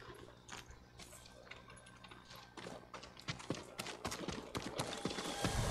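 Hooves clip-clop on the ground near the stables in Ghost of Tsushima, soft, uneven footfalls that grow louder and busier toward the end over a faint ambient background.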